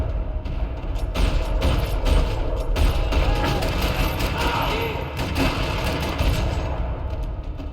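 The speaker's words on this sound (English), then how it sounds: "Another parking lot rattling with gunfire" Dense rattling gunfire and mechanical clatter fill a parking lot in Max Payne 3, continuous, loud and close, with some voices underneath.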